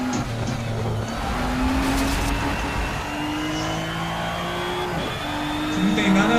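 Nissan GT-R race car at Suzuka in the racing game Need for Speed Shift 2, engine revving and shifting through gears with brief tire squeal, steady and loud throughout, with a voice talking over it.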